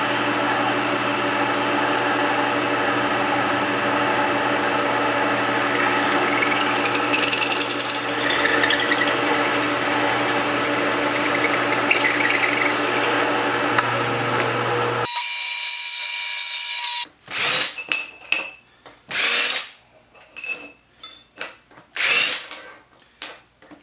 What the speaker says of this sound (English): Let's move over to the mill.